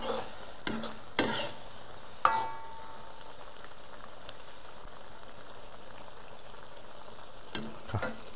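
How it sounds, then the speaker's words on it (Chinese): Eggplant strips simmer in a pot seasoned with MSG and sauce, giving a soft, steady bubbling crackle with a few sharp utensil clanks near the start and end. "把这茄子一定要给它咕嘟烂会儿"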